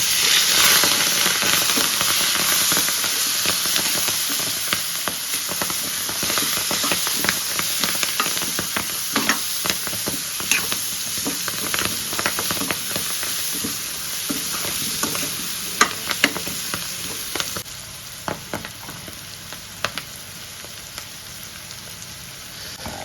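Fenugreek leaf and potato curry frying in a pan while being stirred, a dense continuous sizzle with scraping spoon strokes and crackles, close and loud throughout, no talking.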